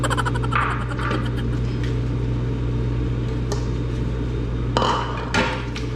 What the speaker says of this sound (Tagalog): tapos na tayong kumain at maghuhugas naman tayo ng plato